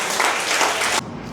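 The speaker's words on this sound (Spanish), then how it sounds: "Vamos a darle un fuerte aplauso al Señor" A church congregation applauds loudly in dense, even clapping for about a second before it cuts off abruptly into quiet room tone.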